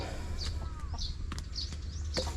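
Chickens cluck in short bursts around a farmyard, with a rooster-like call and faint bird chirps over a steady low background hum.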